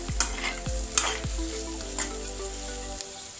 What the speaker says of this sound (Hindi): अब आप फिर से अच्छे से चला लीजिए।